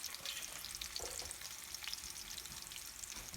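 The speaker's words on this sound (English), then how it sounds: "All right, they just gotta fry a while." Homemade meatballs frying in a pan on a stovetop, a continuous crackling sizzle with scattered pops and spatters, close and fairly quiet, with no voices.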